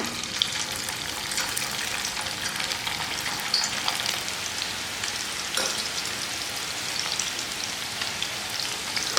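Chicken pieces frying in hot oil in a kadai, a dense, steady crackling sizzle like rain that stays loud and close throughout, with occasional sharper pops.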